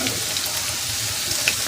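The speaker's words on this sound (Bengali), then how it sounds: "একইভাবে এগুলোকেও আমি এইভাবে লাল লাল হয়ে ভেজে নেব।" Drumstick flower fritters frying in hot oil, a steady soft sizzle with faint crackles heard close up, no talking.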